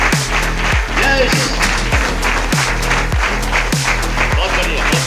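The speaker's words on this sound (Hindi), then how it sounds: "तालियों में कंजूसी नहीं होनी चाहिए भाई।" An audience at a product seminar applauds in a loud, steady stream of close clapping, with rhythmic thumps beating underneath and occasional cheers rising over the hands.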